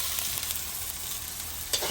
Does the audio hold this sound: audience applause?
no